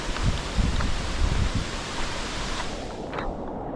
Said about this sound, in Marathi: आणि आता पडतोय पाऊस